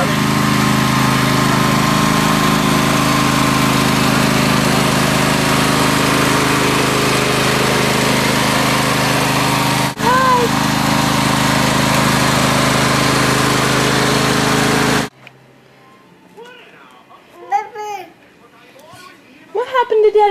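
A riding lawn mower runs with its blade raised, its engine droning loud, close and steady for about fifteen seconds before it stops abruptly, followed by a child and an adult talking.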